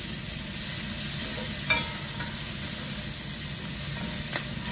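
Onions and fresh garlic fry in grapeseed oil, giving a steady close sizzle that runs throughout, with a couple of brief utensil clicks.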